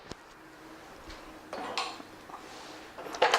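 A kadai (wok) is set down and handled for dry-roasting poppy seeds, giving scattered light metallic knocks and scrapes that build to a louder clatter at the end, close by with no talking.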